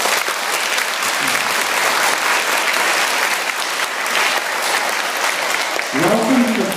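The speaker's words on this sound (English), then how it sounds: "clap if you are excited" Schoolchildren at a mayoral forum in a school hall clapping and applauding in a loud sustained burst that fills the room, ending with a brief voice near the end.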